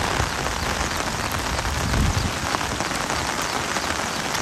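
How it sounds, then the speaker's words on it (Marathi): Heavy, torrential rain pounds a surface in a dense, continuous patter with close drops, loud and steady without voices. "खूप पाऊस म्हणजे खूपच पाऊस आहे."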